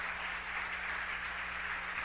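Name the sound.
congregation applauding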